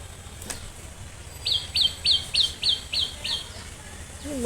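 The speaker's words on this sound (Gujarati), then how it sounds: "મસ્ત મસ્ત ચકલી જ અહીં બેઠી છે." A sparrow perched nearby gives a quick series of about seven sharp chirps in a regular rhythm, moderately clear over a quiet outdoor background.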